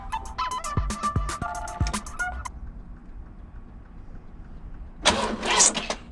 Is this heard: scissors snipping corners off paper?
no